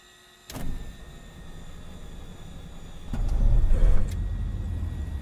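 The piston engine of a Beech B60 Grand Duke in Microsoft Flight Simulator 2024 starts: a sudden clunk and starter hum, then the engine catches into a louder, steady low drone that settles slightly.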